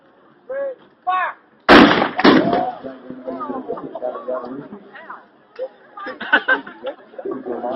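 A World War II weapon fires at a live historical demonstration, one sharp, loud boom cracking out after short shouts, followed by another report and crowd chatter and calls from people nearby.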